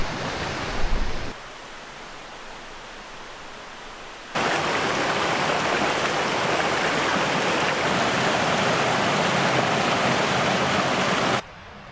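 A creek runs steadily beside a campsite, its water rushing as a dense, even hiss; it starts soft and muted, then swells abruptly into a louder, constant flow and cuts off near the end, with no voices.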